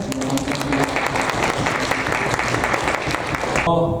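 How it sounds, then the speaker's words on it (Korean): A church congregation applauds a pianist during a Sunday service, with loud, dense, sustained clapping from many people that stops abruptly near the end. "우리 한번 다시 한번 박수할까요?"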